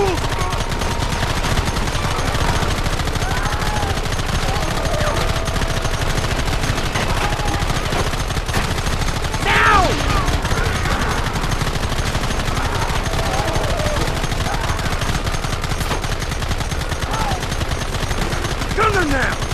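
Gunfire in the Red Dead Redemption video game: a dense, loud, continuous barrage of rapid shots and bursts lasting throughout, with a sharper crack near the middle.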